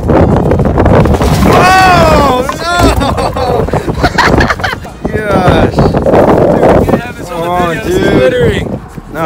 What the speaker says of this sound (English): it's so windy in this town